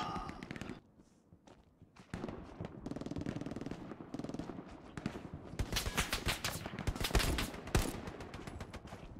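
Gunfire in the World War II shooter Hell Let Loose, set in Carentan: bursts of automatic fire and single rifle shots, some near and some far, with footsteps between volleys.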